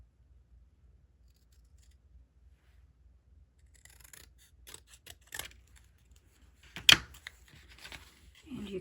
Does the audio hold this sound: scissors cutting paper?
yes